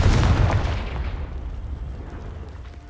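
The Confringo blasting spell in Hogwarts Legacy detonates against a pile of debris in one loud, deep boom that rumbles and fades over a few seconds.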